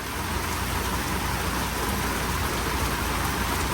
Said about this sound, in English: once all this rain clears up